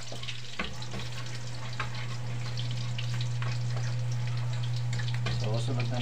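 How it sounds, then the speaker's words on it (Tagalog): Pork browning in a frying pan, a loud continuous sizzle close by, with a steady low hum running underneath and a voice speaking over the cooking. "Medyo pag-brownin lang natin ng konti para lumabas yung aroma niya."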